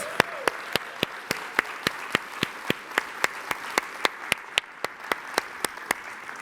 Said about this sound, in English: Let's have another round of applause for this great group of individuals.